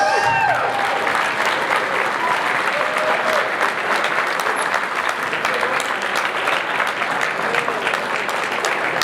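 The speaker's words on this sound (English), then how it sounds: "Let's give Eric a big round of applause." Applause from a wedding reception crowd after a best man speech, steady and dense clapping throughout, fairly close and sustained without pause.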